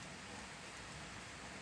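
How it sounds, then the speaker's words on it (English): Rain falls steadily on an outdoor overhang, a soft, even hiss of pattering drops with no voices. "Rain's picking up again."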